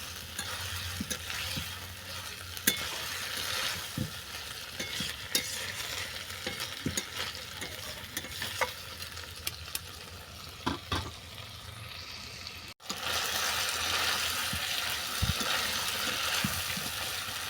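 Chicken pieces and chunks of taro sautéed in a pan for a Bengali kochu chicken curry, with steady sizzling and repeated scraping stirs of the spatula. Loud and close throughout, with a brief break near the end.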